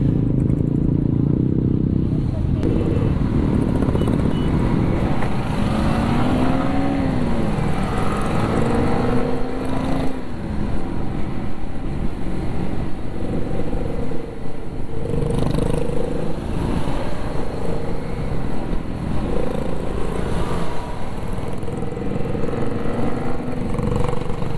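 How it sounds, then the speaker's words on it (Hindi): A motorcycle rides close alongside on the left during a road ride filmed on a helmet camera, its engine a steady drone over heavy wind rush, with a few rising and falling engine tones. "एक ये बाइक चल रही है मेरे लेफ्ट में"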